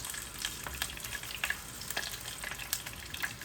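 Cumin seeds frying in sesame oil give a steady, faint sizzle with fine crackling pops scattered throughout and no voices over it.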